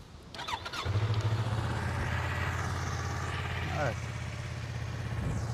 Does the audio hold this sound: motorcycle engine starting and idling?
yes